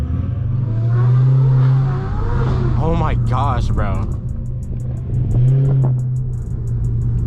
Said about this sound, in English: Those turbos sound so good. You can hear them.